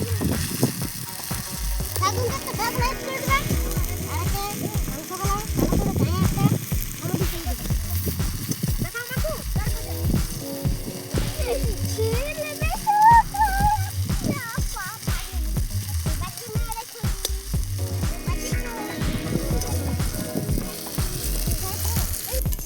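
Ginger and garlic sizzle and fry in a pan at an outdoor village picnic, with a steady crackle throughout, occasional stirring and clinking, and people talking over it.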